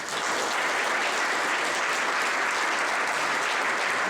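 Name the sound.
conference audience applause welcoming speaker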